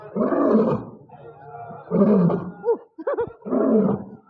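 A lion gives several deep, rumbling roars close by, separated by short pauses, with grunting calls between them.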